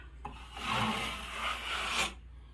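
A trowel spreading and smoothing joint compound over sheetrock seams taped with mesh, a close, continuous raspy scrape lasting about two seconds.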